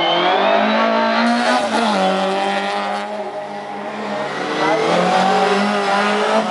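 A rallycross race car blasts along the Estering circuit in a German-Belgian championship round, its engine screaming and rising through revs, dipping briefly as it shifts, then climbing again loud and close.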